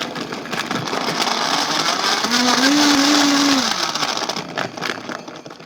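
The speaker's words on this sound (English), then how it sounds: "you definitely want to have a really good quality blender like a Vitamix" A Vitamix blender churns frozen grape margarita at full power, a loud, continuous motor roar with a brief rising whine midway, steady throughout with no talking.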